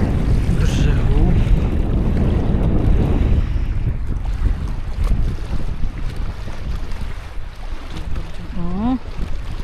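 Waves washing against a fishing spot on a lake shore, a steady loud churn of water and wind buffeting close to the microphone throughout, with a brief whistling tone near the end.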